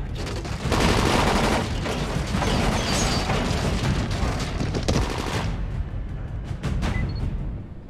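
Dense gunfire in the zombie video game Dying Light: rapid, loud bursts of shots and mechanical clatter fill most of the stretch, easing into scattered sharper cracks near the end, with no talk.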